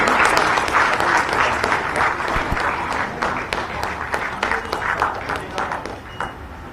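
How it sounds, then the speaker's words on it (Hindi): Loud, dense applause from a gathered audience greets a bronze medal winner at a sports award ceremony in Ranchi, a steady wash of clapping that thins into scattered, uneven claps toward the end. "तालियां हर बार जोरदार होनी चाहिए।"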